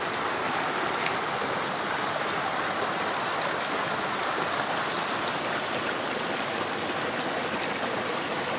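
Fresh mountain spring water flows in a steady, close, broadband rush that does not change over its whole length, with no voices.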